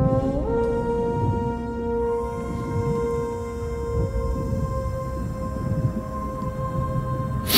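A horn blown in the Sea of Thieves pirate game, a long sustained deep tone held steadily for several seconds, loud and close, with no talk over it.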